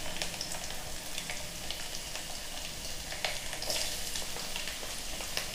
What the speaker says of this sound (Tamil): இது நல்லா எண்ணெய் நல்லா கொதிச்சு வரட்டும்